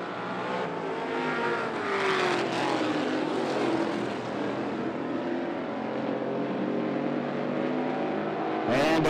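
Street stock race cars at 411 Motor Speedway roar past in a loud, continuous pack, engine notes rising and sweeping as they pass close by, with a sharp burst at the end.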